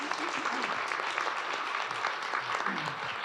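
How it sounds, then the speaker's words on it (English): Audience members at a transportation panel event give a steady round of applause, a continuous moderate patter of many hands filling the whole stretch with little else heard. "Just a quick round of applause for the insights thus far."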